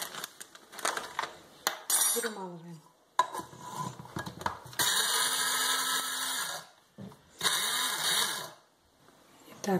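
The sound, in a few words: grinding eggshell, chalk and oats into fine powder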